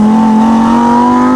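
Lamborghini Huracan STO engine revving loud and close, a sustained high-pitched wail rising steadily in pitch over about a second and a half.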